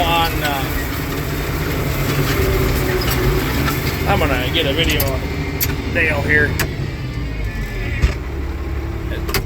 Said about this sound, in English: The tractor sounds pretty tough